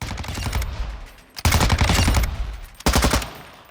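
Full-auto fire from an RM277 rifle in Call of Duty Modern Warfare II: three loud, sustained bursts of rapid shots, close and punchy, with only brief gaps between them.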